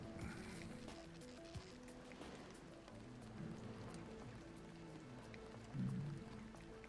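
Steady rain falling in the video game Deus Ex The Nameless Mod, a soft continuous patter with low tonal game ambience underneath, mid-level and unbroken with no talking.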